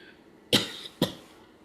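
Two sharp coughs in quick succession, close and fairly loud, against a quiet background.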